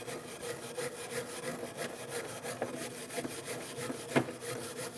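A brake caliper bracket on a 2010-2015 BMW X1 xDrive is scrubbed clean where the pads sit, giving quick repeated rasping strokes, close and fairly quiet, with one sharper scrape near the end.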